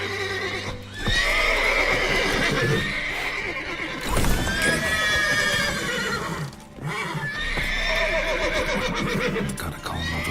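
In a video game, several horses neigh and whinny repeatedly over clip-clopping hooves, loud and close, with layered calls overlapping in a busy, agitated scene.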